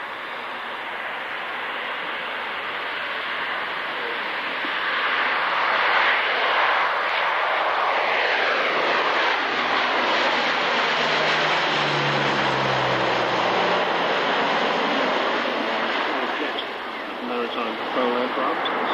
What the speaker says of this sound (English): Maritime patrol aircraft. This is the T56A turboprops.